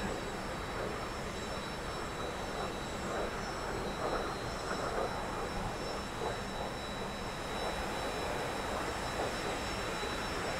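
A T-45 jet trainer's engine in the DCS flight simulator roars in a steady, loud, continuous drone that throttles up smoothly, with faint high whine tones running throughout and no speech.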